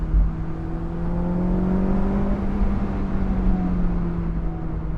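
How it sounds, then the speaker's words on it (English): A Honda S2000 AP2 engine revs out under the driver, a loud steady drone with rising and falling harmonic tones over a broad rumble from inside the cabin. "Still feels fantastic to rev out"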